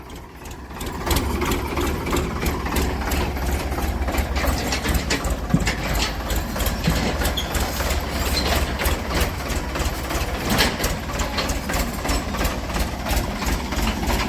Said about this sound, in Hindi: दोस्तों ट्रैक्टर आता हुआ ऐसा लग रहा है जैसे